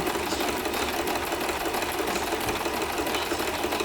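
A sewing machine runs steadily, zigzag stitching around the edge of a fabric letter for a homeschool sewing project, with a dense, continuous mechanical whir held close and loud throughout.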